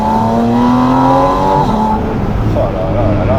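A Porsche 718 Spyder RS with a 500-horsepower naturally aspirated engine revs loudly close by, a steady high harmonic howl that drops as gears change, with a voice briefly heard over it.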